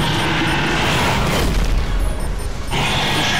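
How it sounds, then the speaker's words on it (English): Plasma cannon shots fired at the Predator in a video game, heard as dense, continuous booming blasts that swell and roll loudly with no pause, with no voices present. "Just keep shooting with the plasma cannon"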